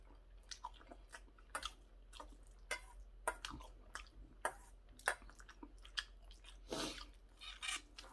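Someone eats curry up close, with soft wet chewing, squishy bites and small smacking sounds coming in irregular bursts over a quiet background.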